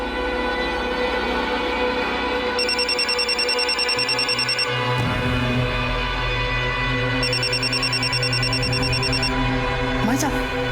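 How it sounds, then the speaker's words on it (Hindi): A mobile phone rings with a repeating electronic trill in two bursts, sounding over a loud, busy background of music and voices. "भाई साहब, भाभी जी का फोन बज रहा है"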